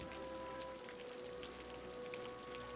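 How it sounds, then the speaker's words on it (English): Soft, steady rain patters evenly in the city-building game Cities: Skylines. It stays faint and continuous, with a low hum under it, a couple of brief higher ticks near the end, and no voices. "I like the sound of that rain."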